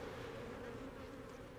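Dense, steady buzzing of many honey bees close by during a hive inspection, a continuous droning hum with no voices.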